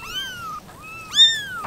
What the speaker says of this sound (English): Look, we got kittens.